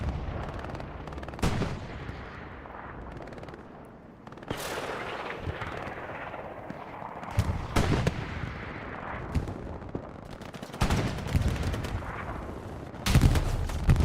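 Machine gun and other gunfire in Hell Let Loose on the Foy map, with sharp distant and nearer shots and bursts scattered over rumbling battlefield noise, several loud cracks standing out.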